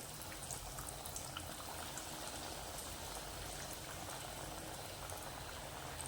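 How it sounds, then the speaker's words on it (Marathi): Crispy veg cutlets fry in hot oil over medium gas, giving a dense, steady sizzle with fine crackling that holds constant and close, with no talking. "आणि आता हे आपल्याला एकदम मीडियम गॅसवरती बघा तळून घ्यायचं."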